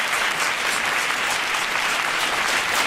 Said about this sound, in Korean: 여러분 박수를 부탁드리겠습니다.